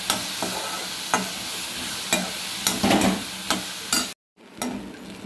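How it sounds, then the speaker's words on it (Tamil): Crushed turkey berries sauté in oil, a continuous sizzle broken by regular scraping stirs of a spatula about once a second, with a short silent gap near the end before the frying resumes. "தோலெல்லாம் சுருண்டு வர மாதிரி நல்லா வதக்கி எடுத்துக்கோங்க"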